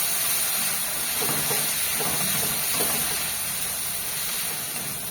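Ground poppy seed paste fries steadily in a pan for home cooking, giving a continuous hissing sizzle with faint crackles throughout, moderately loud and close, with no voices.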